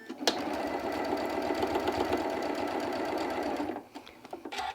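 Sewing machine stitching along a seam on a crumb fabric quilt block, running steadily and close for nearly four seconds before stopping, followed by a few light handling clicks.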